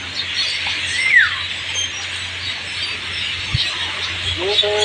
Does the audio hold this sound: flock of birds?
yes